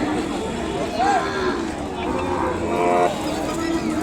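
Young Ongole calves moo at a wholesale cattle market in Kodad, with two short lowing calls over a busy background of people talking.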